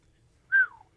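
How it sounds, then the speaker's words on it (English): A single short human whistle, a clear falling note lasting about a third of a second, heard alone over a faint low background hum. "That's a good whistle."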